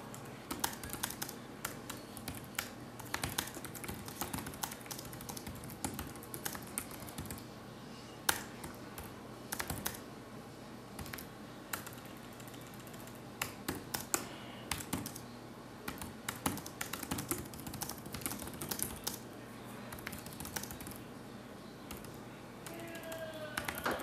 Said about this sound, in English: So here's just like me typing on it, so you'll get an idea kind of.